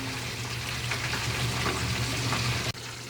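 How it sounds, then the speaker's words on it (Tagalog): Ginataang puso ng saging, banana heart in coconut milk, simmering in a pan as its broth reduces, giving a continuous close bubbling sizzle with a low steady hum that drops out briefly near the end. "medyo tutuyuin lang natin ng konti ang sabaw, and then luto na to"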